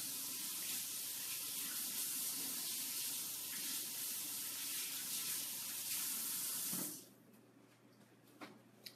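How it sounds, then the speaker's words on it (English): Food being rinsed under a running kitchen tap: a steady, close rush of water for about seven seconds, then the tap shuts off and a few small clinks follow in near silence. "So let me rinse these really quick."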